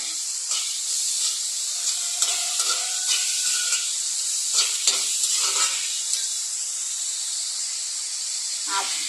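Curry leaves with crushed ginger and garlic frying in oil in a pan while cooking quail egg roast, a steady close sizzle with intermittent crackles and stirring scrapes throughout.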